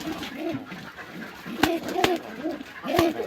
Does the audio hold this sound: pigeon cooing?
yes